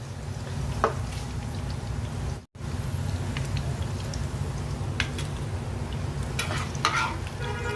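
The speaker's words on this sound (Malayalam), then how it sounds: "ഇപ്പം നമ്മുടെ കവിള് വറുത്തത് സെറ്റായിട്ടുണ്ട് കേട്ടോ" Close, steady sizzle of hamour fish cheek frying in a pan, with occasional scraping stirs and pops, briefly cutting out partway through.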